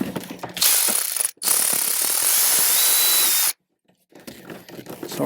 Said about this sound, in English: let's get our ratchet